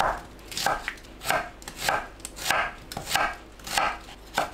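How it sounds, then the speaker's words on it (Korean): An onion, halved, is sliced about 1 cm thick with a knife on a cutting board, giving seven evenly spaced, crisp chopping strokes close up with no voices. "양파를 반으로 가르고 1cm 두께로 썰어줍니다"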